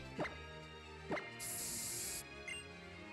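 A Repel spray item is used in the Pokémon X video game, producing a bright, hissing spray burst lasting under a second, set between a few soft thuds and clicks at low volume.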